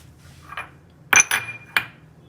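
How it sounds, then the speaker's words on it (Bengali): Dry fruits (almonds, cashews and walnuts) tossed in flour and shaken through a sieve give a few hard clinks and rattles, one soft knock followed by three sharp metallic taps close by. "একটু ছেঁকে নেব যাতে ময়দাগুলো বেরিয়ে যায়।"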